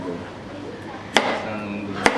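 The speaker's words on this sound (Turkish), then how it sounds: "armutumuzu doğramaya başlıyoruz" A knife chops a pear into small, thin pieces on a board, giving two sharp, close thwacks about a second apart over faint background noise.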